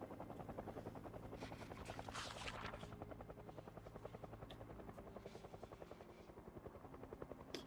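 A helicopter's rotor thumps in a rapid, steady rhythm with a buzzing engine whine, continuous and fairly faint, as if hovering overhead, during the helicopter event in the video game Project Zomboid.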